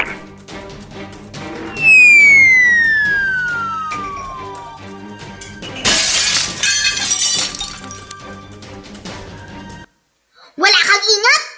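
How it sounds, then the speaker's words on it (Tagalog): A washed dinner plate shatters with a sharp burst of breaking glassy crockery, preceded by a descending whistle-like sound effect and followed by a brief silence and a short cartoonish tone. "nabasag ang hinugasang pinggan ni Juan"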